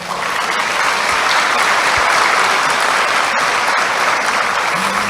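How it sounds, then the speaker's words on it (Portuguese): A church congregation at a Brazilian evangelical service claps steadily, a dense, loud wall of applause lasting throughout with no talk over it. "Aplauda esse Deus."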